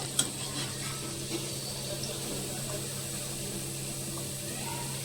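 Sweet corn vadas fry in hot oil with a soft, steady sizzle that holds throughout, broken by a few faint clinks of a utensil near the start.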